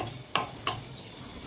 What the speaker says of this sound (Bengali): এই গরম তেলের মধ্যে আমি এই ফোড়নে দেওয়া জিরে আর লঙ্কাকে আমি ভালো করে একটু নেড়ে চেড়ে নেব।